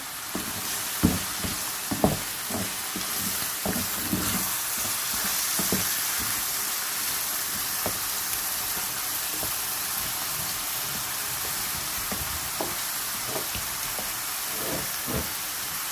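Garam masala and minced meat sizzle steadily in a pan for smoky qeema methi, a constant frying hiss broken by sharp clinks and scrapes of stirring, close and fairly loud.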